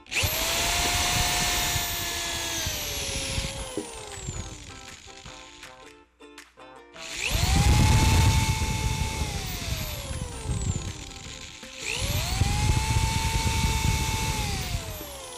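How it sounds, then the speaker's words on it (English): A power drill whines in three long bursts, its pitch rising and settling as it bores pilot holes into the wood of a wine rack, with a short quiet pause between runs. "And you drill your pilot holes on the other side."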